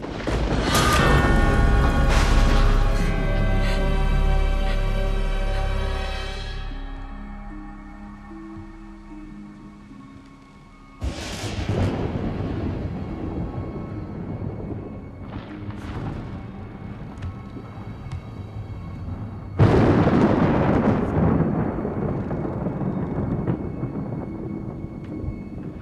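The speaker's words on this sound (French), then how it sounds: "Tu as peur de l'orage?" Thunder rumbles at night during a storm, with a long deep roll fading over several seconds, then two more heavy cracks breaking into sustained rumbling, loud and near, with no voices.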